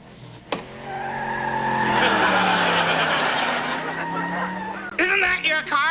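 A car skids and revs in a sitcom scene, a rising engine whine with tire squeal that swells over several seconds, then gives way to sharp voices at the end.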